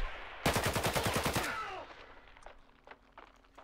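Rapid automatic gunfire in a Roblox shooting game, a loud burst of about a dozen evenly spaced shots followed by fading echo and a few faint scattered clicks.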